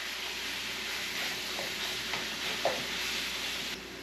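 Chicken sauteing in a pan for bourbon chicken, a steady close hiss of frying with a few soft stirring scrapes and small pops, continuous and without voices.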